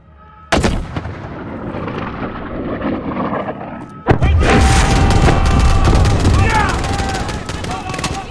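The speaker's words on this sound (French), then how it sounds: "Tirez au canon." Heavy cannon and gunfire from the war shooter Call of Duty: Modern Warfare, with a sharp blast early, then a second loud boom that opens into sustained rapid gunfire and explosions, and voices shouting beneath.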